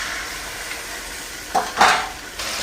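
Potatoes cook in a pot with a little water added, giving a quiet steady simmer and sizzle, broken by a few brief stirring scrapes and clinks of a utensil against the pot near the end.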